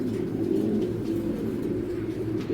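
Racing pigeons coo steadily in a low, continuous purring drone, close and prominent for the whole stretch with no other sounds.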